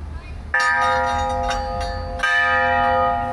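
A metal bell at the Kanteshwar Mahadev temple in Vapi West is struck twice, a few seconds apart. Each strike rings out loud and close, and the ringing tone lingers and slowly decays.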